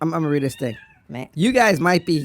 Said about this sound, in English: We have this cat, and you can hear him in the background.